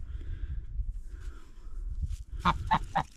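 A goose honks three times in quick succession near the microphone, loud nasal calls over a low rumbling background.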